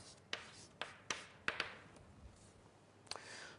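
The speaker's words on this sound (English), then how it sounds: "Let's write here the proof." Chalk writing out a proof on a lecture-hall board: a series of crisp taps and short scratchy strokes at an irregular rhythm, close and fairly quiet with no talk.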